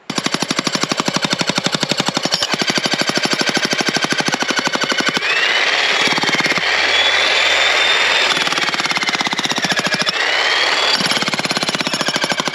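A jackhammer pounds continuously at close range breaking limestone, its rapid percussive blows loud and steady with a whining mechanical tone rising over parts of the run.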